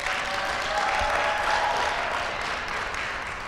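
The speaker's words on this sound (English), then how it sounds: "let's give Mary and YMT a round of applause" Graduation event audience breaking into steady, even applause, a full room of clapping sustained at a consistent level for several seconds with no speech over it.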